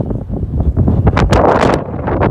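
Strong wind buffeting the microphone at a hillside gun battery above San Francisco Bay, a loud continuous rumbling roar with gusty surges and no talk.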